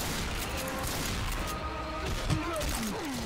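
Gunfire in the zombie shooter Left 4 Dead 2 on the Swamp Fever plank-country level: a steady, dense barrage of shots with voices talking over it.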